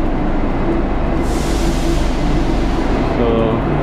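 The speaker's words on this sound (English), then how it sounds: "Give you a tour of this train from España to Montserrat." Inside a nearly empty train running from Plaça d'Espanya toward Montserrat, a steady low rumble of rolling wheels and carriage noise carries throughout, with a brief rise in hiss midway and a faint voice under it.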